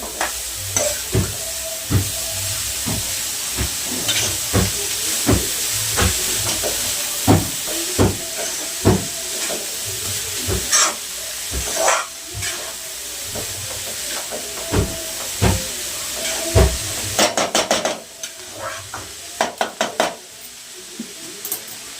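Food fries in oil with a continuous loud sizzle and hiss, with frequent sharp clacks of a spoon stirring against the pan throughout.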